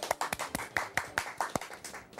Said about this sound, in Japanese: ありがとうございます、拍手。